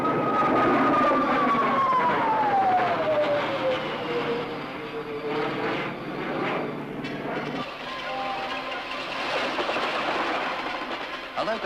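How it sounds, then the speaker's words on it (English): A steam-era locomotive train rolls past with a long falling whistle-like tone and steady rumbling wheel clatter, loud and close throughout with a continuous mechanical roar. "A locomotive's a good example."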